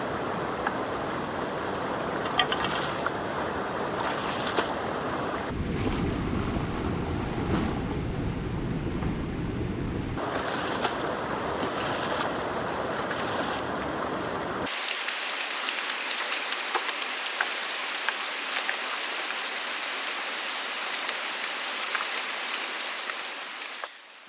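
Water is splashed up into a rock crevice during gold prospecting in New Zealand, a continuous busy splashing and trickling that shifts in character across several sections, close and steady with no talking.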